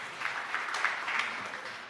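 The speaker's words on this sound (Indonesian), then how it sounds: "ayo tepuk tangan yang meriah bagi Tuhan Yesus." A church congregation claps during a pastor's sermon, a full, steady wash of many hands at moderate distance, continuous and unbroken by speech.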